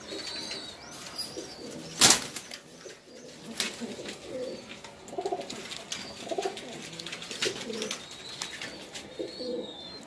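Pigeons of the Teddy breed coo in low, rounded phrases repeating through a loft, with scattered bird chirps and a sharp burst of flapping wings near the start.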